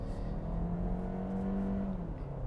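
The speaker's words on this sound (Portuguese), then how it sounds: "vamos ver então como é que o Sportage anda com esse motor híbrido leve" A Kia Sportage with a 180-horsepower SmartStream mild-hybrid engine accelerates, a steady rising engine drone building in pitch and holding near and fairly loud before easing off toward the end.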